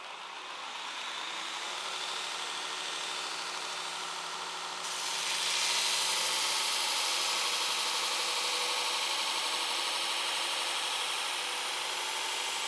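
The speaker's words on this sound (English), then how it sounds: "as you saw there, I'm grinding on the very edge of the belt" A Shop Master 72-inch belt grinder profiling a knife blade, the steel held against the edge of the belt, gives a steady, loud abrasive whine and hiss that grows rougher and brighter partway through and keeps going without a break.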